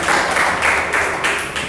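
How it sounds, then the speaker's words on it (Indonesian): Steady applause from a classroom audience, dense close clapping that swells and dips slightly and runs the whole time with no voices over it. "tepuk tangannya mana?"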